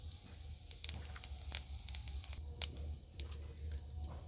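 Panch phoron spices, bay leaf and a broken dried chilli frying in hot mustard oil in a kadai, a soft steady sizzle with scattered sharp crackles and pops, close and fairly quiet.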